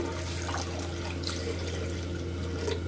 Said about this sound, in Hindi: मैंने इसमें आधा लीटर दूध डाला है।